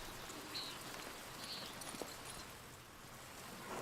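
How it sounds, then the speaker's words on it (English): Steady rain falls in the Pentiment video game, a soft continuous hiss of drops at moderate level with a few faint chirps, and no talk. "Look at this rain."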